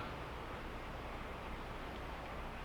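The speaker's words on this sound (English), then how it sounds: "it's thundering outside. A lot of rain right now." Steady broadband hiss of heavy rain outdoors during a thunderstorm, continuous and even throughout, with a low thunder rumble underneath; no voices.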